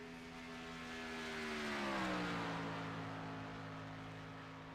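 A stock race car's engine roars past on a qualifying hot lap at Daytona in a racing game, a loud sustained drone whose pitch sweeps downward as it passes close by, swelling and fading over a few seconds.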